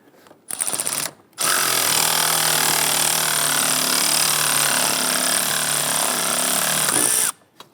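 Power tool or impact driver running steadily for several seconds as bolts are tightened on a Jeep Grand Cherokee 3.6L bracket, loud and close, with a brief burst beforehand and quiet gaps around it.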